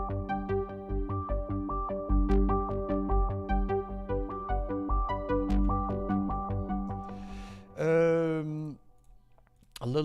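Several layered synth parts, including an electric-piano-style sound, play together in a steady rhythmic pattern of plucked chords and bass notes, ending with a brief sustained tone before a fresh hit.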